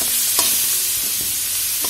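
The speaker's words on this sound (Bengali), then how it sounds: "আর এটা হলুদ নুন লঙ্কা গুঁড়ো দিয়ে এবার একটু কষাবো।" Onion-tomato masala with turmeric, salt and chilli powder fries loudly in a pan, a dense close sizzle with a few quick spatula scrapes and no voices.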